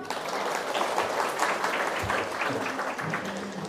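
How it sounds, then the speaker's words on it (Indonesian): A crowd of villagers claps together at an outdoor gathering, a dense, even burst of applause with a few voices faintly heard. "Tepuk tangan dulu."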